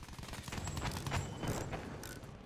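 Rapid bursts of gunfire from fighter planes during a Battlefield 1 aerial battle near airships, dense overlapping shots crackling loudly and continuously without a break.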